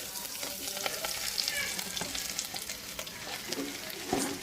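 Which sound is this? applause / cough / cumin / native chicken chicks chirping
cumin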